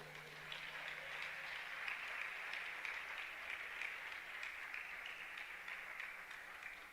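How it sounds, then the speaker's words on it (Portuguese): A church congregation applauds together in a steady, fairly quiet wash of clapping that holds level for several seconds, with a faint low hum underneath. "Você pode dar um aplauso ao Senhor?"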